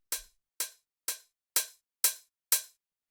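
Six evenly spaced dry hi-hat hits from a minimal dub house drum group, crisp short metallic ticks with quick decays, close and isolated with silence between them.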